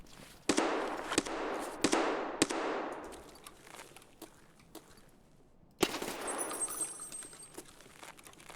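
Gunfire in a tactical shooter game: a few sharp, loud single shots ringing out with decaying echoes, then a pause and one more crack with lingering ringing tail.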